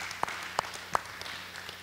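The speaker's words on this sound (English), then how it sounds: "I want to give you guys a round of applause this morning" Church congregation applauds on a Sunday morning, a few sharp loud claps standing out over a thin, scattered patter.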